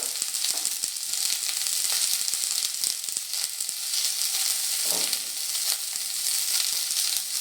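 Lentils with turmeric and salt fry in a hot pan for a veg dal, giving a steady close sizzle with scattered crackles and occasional stirring scrapes throughout.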